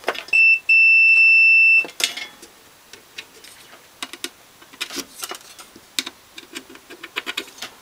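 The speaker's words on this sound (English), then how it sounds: "do a continuity beep check" A multimeter continuity check on a ballast box gives a sharp, steady electronic beep, a brief blip and then a longer tone, followed by scattered clicks and handling taps.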